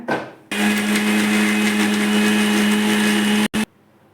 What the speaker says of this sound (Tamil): இப்போ அரைச்சி எடுத்துக்கலாம் இதை